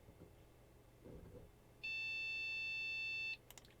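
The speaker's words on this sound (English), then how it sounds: "Let's test that buzzer." A QSAN NAS buzzer sounds one loud, steady electronic beep lasting about a second and a half, followed by a couple of faint clicks in a quiet room.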